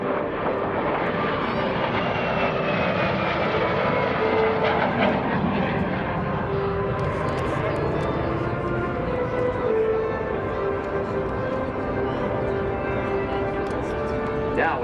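A MiG-17 jet making a low pass at an airshow, its engine a broad, steady roar that builds and holds at moderate distance, with a public-address voice talking over it throughout.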